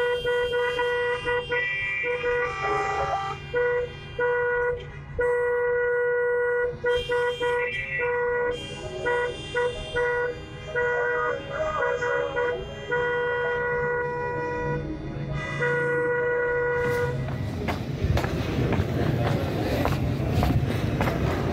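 Car horns honk in the street of Sanandaj during a protest strike, with many overlapping sustained and repeated toots from several vehicles and a louder rumbling crowd or traffic roar near the end.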